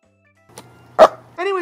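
A puppy at play gives a brief close bark or yip right after a sharp thump, short and alone in otherwise quiet surroundings.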